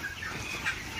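Poultry on a raised farm shed built over a pond, a dense continuous chorus of bird calls, fairly close and steady, with no talk over it.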